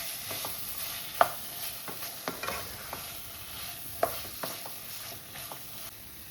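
A spoon stirs chicken curry masala with cumin, pepper and garam masala in a pan, producing repeated soft scrapes and clicks over a quiet sizzle, close and steady with no talking.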